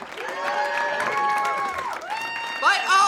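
A live comedy show audience applauds and cheers for Deb McGrath and Colin Mochrie, steady clapping filling the room with a brief dip near the end before a fresh surge of cheering and whoops.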